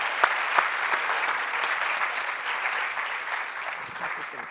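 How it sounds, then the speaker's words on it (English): A TEDx event audience applauds the volunteers gathered on stage, a dense, even wash of clapping with a few sharper claps near the start, fading slightly toward the end. "Another round of applause."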